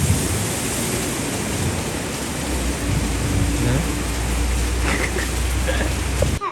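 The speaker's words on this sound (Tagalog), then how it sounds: "Sobrang lakas pa rin ang ulan mga tol." Heavy rain pours down in a dense, constant hiss that fills the whole stretch, loud and steady with faint background sounds underneath.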